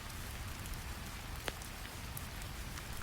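Steady, moderately loud rain hisses in an even wash around Tibetan mountain monastery walls, with a few faint drips and no voices.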